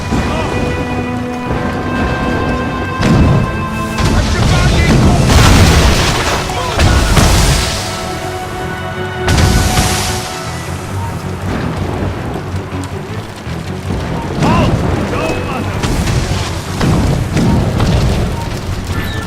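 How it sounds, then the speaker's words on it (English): Mortar shells exploding during a battle in Assassin's Creed Rogue, several heavy booming blasts at irregular intervals over a constant roaring, rain-like rumble, loud and close. "Chevalier's using mortars to stop Shay!"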